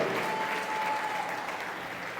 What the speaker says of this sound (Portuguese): Não, você pode fazer melhor, aplauda o nome do Senhor